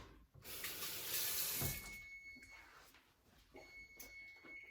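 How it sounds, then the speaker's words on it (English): Kitchen tap running loudly at first as a knife is rinsed in the sink, the gush fading to a softer trickle with faint clinks and a high tone, all close by and without speech. "just give my knife a little rinse"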